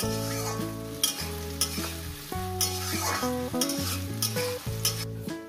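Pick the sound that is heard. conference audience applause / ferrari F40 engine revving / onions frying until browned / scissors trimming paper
onions frying until browned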